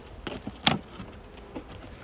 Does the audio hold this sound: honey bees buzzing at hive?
yes